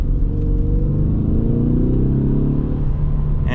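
A 2026 Ford Mustang EcoBoost engine holds steady revs while driving, giving a continuous, loud, close low drone with harmonic layers that rise gently toward the end.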